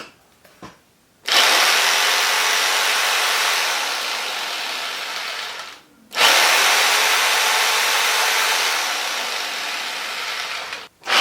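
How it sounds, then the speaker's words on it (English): An old jigsaw powered from a compact DABBSSON 600L portable power station runs in two long, loud, steady bursts of whining motor and blade buzz, separated by a brief stop near the middle, with no talking. "We'll plug in the old jigsaw, see what it does."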